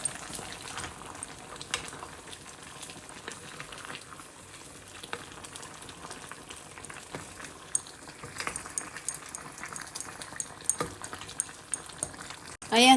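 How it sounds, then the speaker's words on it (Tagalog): Quiet, continuous bubbling and soft crackling from a pot of dinengdeng with malunggay and squash on the boil, with scattered small pops and ticks, no voices. "Kumukulo na mga kaibigan."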